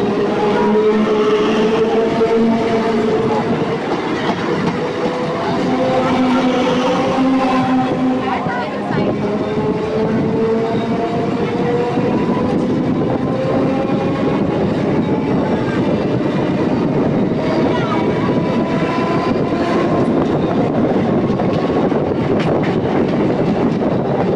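An EMU local train on the Howrah–Tarakeswar line runs at about 70–75 km/h after leaving Hind Motor, a loud, steady rolling roar with droning motor tones that rise and fall, heard from on board.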